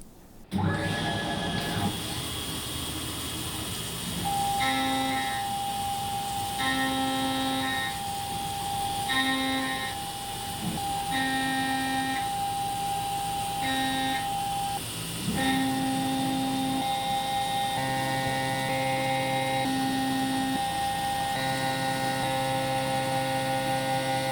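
A milling machine makes a clean-up pass with a 1/2 inch flat end mill while shaping a V block, giving a steady machining drone with tonal whine that cuts in and out in regular bursts.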